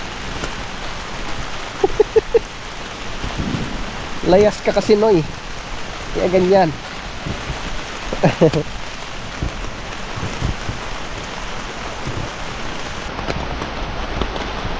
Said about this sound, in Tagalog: Hindi na tumila ang ulan.